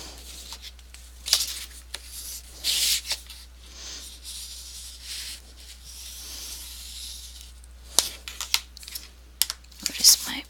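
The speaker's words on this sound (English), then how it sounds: "okay, now it's time to burnish very well. Close it and burnish." Burnishing a paper pop-up inside a photo album, short scratchy rubbing strokes in irregular bursts, close and fairly quiet, with a faint low hum underneath.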